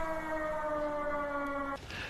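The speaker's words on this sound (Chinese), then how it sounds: "座座军营里拉响防空警报" An air-raid siren sounds at a military barracks during a memorial observance, one steady loud wail of stacked tones held for nearly two seconds before it cuts off abruptly.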